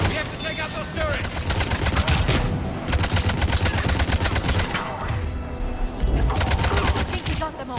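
Rapid gunfire against Cerberus turrets in the Mass Effect Legendary Edition 3 video game, dense continuous bursts over a loud game soundscape, with a few brief lulls.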